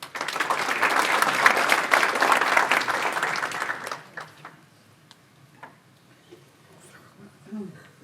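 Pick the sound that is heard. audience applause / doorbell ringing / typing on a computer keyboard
audience applause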